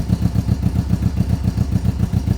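A street motorcycle engine struggling in cold winter air, chugging in an uneven rapid pulse of low thuds that sounds rough and close, close to stalling, with no talking over it.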